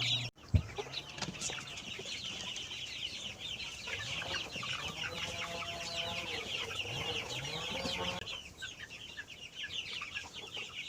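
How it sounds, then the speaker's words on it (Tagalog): Native chickens cluck and chatter steadily nearby, a busy flock with overlapping calls and occasional louder squawks over a quiet background. "Itong mga manok natin dito"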